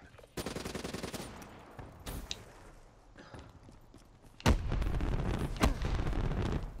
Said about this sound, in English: Bombing. Who was bombing?